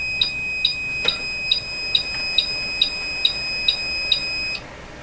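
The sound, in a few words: DC power supply beeping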